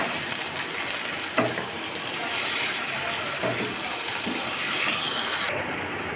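Water is poured into masala frying in oil for Kashmiri dum aloo. A steady hissing sizzle is broken by a few soft clinks and stirring sounds, with no talking.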